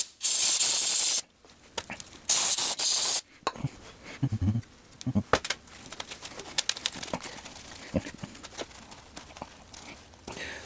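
Spray cleaner hisses onto the front brake hardware of a 2015 Toyota RAV4 Limited in two loud, sustained bursts, each about a second long. Clinks, ratchet clicks and light handling noises from the nearby brake job follow the bursts.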